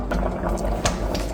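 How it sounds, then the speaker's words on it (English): Olive oil sizzles in a very hot pan while prosciutto is cooked for beef Wellington, giving a dense, continuous crackling hiss with small pops, loud and close, with no talking. "Quickly test it if the pan not hot enough. perfect sizzle."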